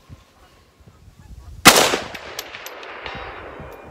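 A single loud gunshot from a Radical Firearms AR pistol chambered in 7.62x39, fired at an outdoor range, with a sharp crack and a long ringing decay trailing off into faint background sounds.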